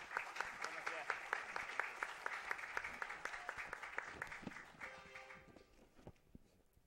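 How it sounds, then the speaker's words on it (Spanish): Audience applause for a speaker on a constitutional law panel: steady dense clapping for about five seconds that thins and fades out, with a voice faintly beneath it. "También les pido un fuerte aplauso para el doctor Armando."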